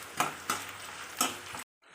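Oil sizzles steadily in a pan as spices and cut dried red chillies fry for a tempering for mango pulihora. A few sharp crackles and pops rise above it before a sudden cut to near silence.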